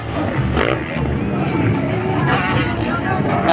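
Motorbike engines at an enduro race qualifying round in Impasugong, Bukidnon, droning steadily with a brief rising rev, mixed with crowd babble and someone talking over the noise.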